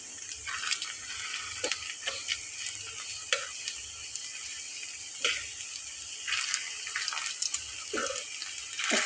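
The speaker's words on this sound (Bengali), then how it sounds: "এগুলো ভেজে বাকিগুলো ভেজে নেব" Small crispy potato bites sizzle softly in hot oil, a steady hiss broken by occasional stirring clicks and scrapes, quiet and close, with no talk.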